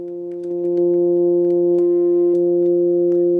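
A two-operator FM synth holds a steady, pure sine-like tone with a few faint harmonics above, swelling in over the first second and then sustaining evenly with small clicks.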